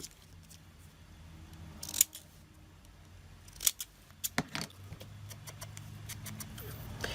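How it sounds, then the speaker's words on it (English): Mini pinking shears snipping around a stamped paper image, giving a few short, crisp cutting clicks with brief gaps, close up and fairly quiet against a soft room background. "I'm going to use my mini pinking shears, and I'm going to cut around that"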